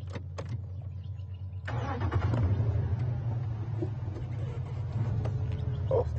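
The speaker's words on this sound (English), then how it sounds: "I'm just going to move the car a little bit so Brian's got a better angle." Out on a wildlife safari, a car's engine starts and idles low and steady as the vehicle is eased forward a short way, a soft rumble with a few clicks and faint movement noises.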